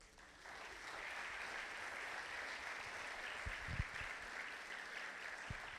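A conference audience in a large hall breaks into applause, rising quickly into a sustained, full round of clapping that carries on steadily with a few louder thumps near the end.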